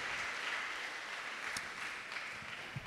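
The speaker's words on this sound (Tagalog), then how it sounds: "At bigyan natin ng pagbati ang Panginoon ng ating malakas na palakpak." A church congregation claps steadily throughout a Simbang Gabi Mass, a dense even patter of applause heard from a moderate distance.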